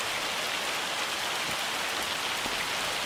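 Steady hail and rain from the weather in the farming game Farming Simulator 25, a continuous dense hiss of drops drumming on surfaces with a few louder impacts, no voices.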